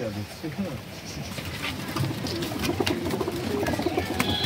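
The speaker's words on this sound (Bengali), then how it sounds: "পায়রা দেখছেন কিভাবে আছে, কত পরিমাণে আছে।" Old-generation Madrasi pigeons cooing in a loft, a flock's layered low coos running continuously nearby beneath a person talking.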